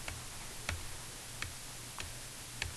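Calculator keys are pressed while numbers are typed in, about five sharp, evenly spaced clicks close up over a faint background hiss, no voices.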